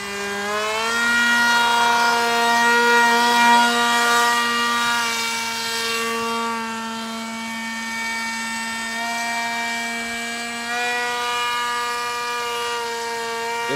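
Electric motor of an RC Alpha Jet model plane in flight, a loud steady whine holding one pitch with slight wavering and a small dip near the end, heard alone without talk.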